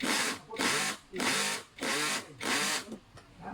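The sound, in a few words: screw being tightened while assembling an office chair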